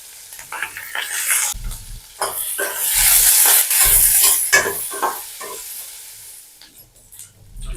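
Chopped onion and green chili fry in hot oil with mustard seeds in a pan, a loud sizzle punctuated by repeated scraping stirs of a spoon, the hiss swelling mid-way before easing.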